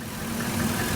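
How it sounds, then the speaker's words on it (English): A boat engine runs steadily in the water after installation work, a close, even idling hum with no talk over it. "Okay, we're running the engine."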